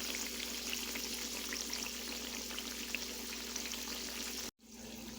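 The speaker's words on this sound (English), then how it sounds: "this is what the cucumbers are looking like as they're frying" Steady, bright sizzling of cucumbers frying in hot oil, continuous and close, with a brief cutout near the end.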